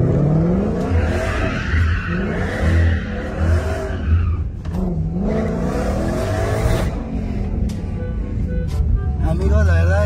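A car accelerates hard with tires skidding and squealing, the engine note rising and falling in repeated revving sweeps, loud and close, while people talk excitedly over it.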